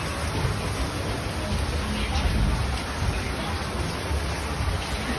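Steady broadband hiss of rain falling continuously, with low rumbling underneath and faint voices mixed in.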